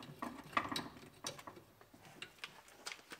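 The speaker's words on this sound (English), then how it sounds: "unbolt the clamp on the filler neck to the gas tank" Faint clicking ratchet of a wrench unbolting the filler neck clamp at the gas tank of a 2013 Buick Enclave, a series of quick, uneven metallic ticks and small clanks close by.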